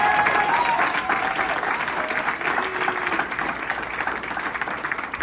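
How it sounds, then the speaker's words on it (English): Sustained crowd applause at a US Air Force Thunderbirds squadron event, a broad wash of many clapping hands that stays loud and gradually eases slightly, with faint murmurs underneath. "Huge round of applause"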